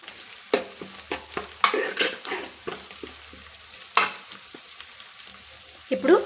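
Onions and green chillies stirred and fried in a pan for a bitter gourd curry, with a continuous sizzle and irregular spatula scrapes and knocks against the pan, close and fairly loud, with no talking.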